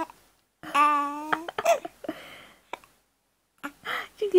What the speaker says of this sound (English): You give yourself the hiccups.